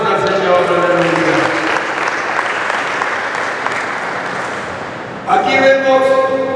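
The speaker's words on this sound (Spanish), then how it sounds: "A su nombre, denle palmas al Señor." A church congregation in Tingo María claps steadily together for several seconds during a Saturday service, with a voice speaking over the dense applause and a brief dip before the clapping swells again.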